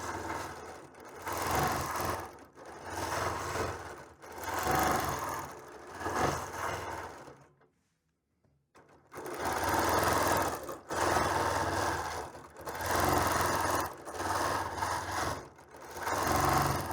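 Q20 industrial sewing machine stitching along a fabric edge in long loud whirring runs with brief pauses and one clear stop partway through, close to the machine.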